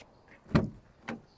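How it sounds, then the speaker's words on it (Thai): An Isuzu D-Max pickup door gives two short, sharp mechanical clunks about half a second apart, close by and otherwise quiet. "เดี๋ยวไปเปิดประตู ฝั่งนู้นก่อน"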